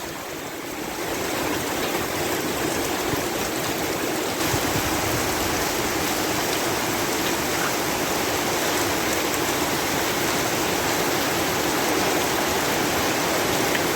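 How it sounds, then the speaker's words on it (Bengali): Steady rain pours on bamboo groves and trees in the wind, a dense, even hiss that continues unbroken for the whole stretch without any voices. "কি একটা প্রশান্তির বৃষ্টি"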